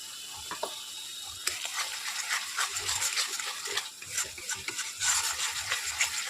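Aloo paneer with turmeric, sugar and spices is stirred and fried in a pan, a close scraping and clacking of the spatula in uneven strokes over a soft, steady sizzle.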